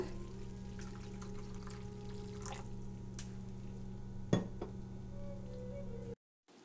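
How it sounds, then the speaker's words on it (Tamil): Water poured steadily into a pot of black lentil curry, a soft continuous pour with a few light clinks and one sharper knock near the end. "குழம்புக்கு தேவையான அளவு தண்ணி சேர்த்துக்கலாங்க"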